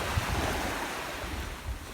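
Sea waves wash onto a beach on a fishing day out for snapper, a steady surf roar mixed with wind buffeting the microphone and low thumps, no talking.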